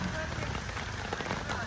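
Steady rain falling during a motorcycle ride, a dense continuous hiss of drops on surfaces filling the whole clip at an even level, with no clear voices.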